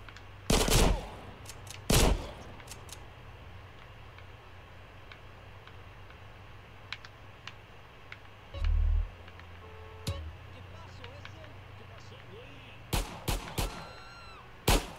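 Gunfire in Grand Theft Auto: San Andreas during a gang fight, with sharp shotgun-like blasts in two early bursts and a cluster near the end, separated by quieter stretches with a low background hum and a brief thump.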